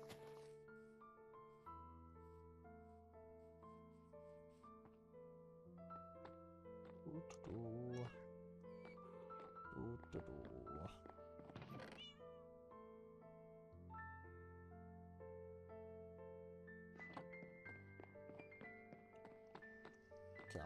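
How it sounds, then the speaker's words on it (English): A cat meows inside a video game, several short meows rising out of a busy game soundscape with steady background music and tones, with occasional clopping and tapping noises mixed in. "Cat meow."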